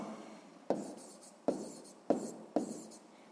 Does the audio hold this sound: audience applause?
no